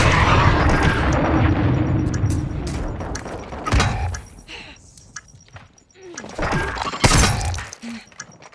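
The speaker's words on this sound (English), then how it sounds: "Friendly cruise missile inbound." A cruise missile strike in Call of Duty: Modern Warfare II bursts as a loud, roaring explosion with crackling debris, fading into rumble, then a second sharp blast and echoing booms near the end.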